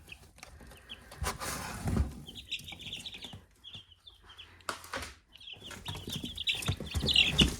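Eleven young chicks peep in a small chick house on a hobby farm, a close scatter of high, thin cheeps arriving in short bursts, with soft rustling and shuffling of bedding between them.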